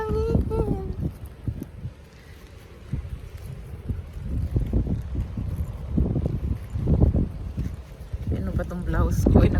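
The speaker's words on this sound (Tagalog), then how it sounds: "grabe ang hangin." Strong gusty wind buffets the microphone outdoors in a steady low roar, with a voice speaking briefly near the start and scattered footsteps or knocks under the noise.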